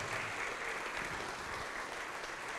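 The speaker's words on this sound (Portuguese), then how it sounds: "Vamos aplaudir mais ao nome de Jesus." A church congregation applauds steadily, a dense, even wash of clapping that holds at a moderate level from start to finish with no pauses or voices standing out.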